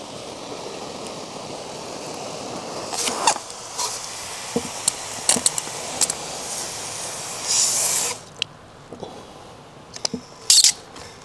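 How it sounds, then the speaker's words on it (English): Water sprays hard from a punctured copper pipe in a home, a close, loud, broad hiss that keeps going with bursts and sputters, broken by sharp handling knocks and a sudden louder gush near the end. "I accidentally punctured this copper pipe. Whoa! So I got this massive leak"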